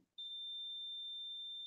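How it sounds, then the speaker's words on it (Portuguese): A hot air rework station gives a single long, steady high-pitched beep while memorizing a channel temperature, sounding loud and close and held without a break after a short quiet start. "Até escutar um bip."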